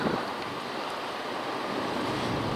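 Strong wind blowing steadily over a lake, a broad, loud, continuous rush with wave-like surf texture and microphone buffeting, no voices.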